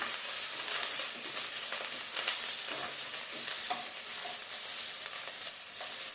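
Onions being stirred and fried in a pan for an onion and tomato masala, a steady close sizzle with continuous scraping and stirring throughout, no voices.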